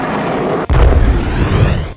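Chinese fighter jets fire during a military drill over the South China Sea, giving a sudden deep boom followed by a heavy rumbling roar that stays loud and then fades sharply.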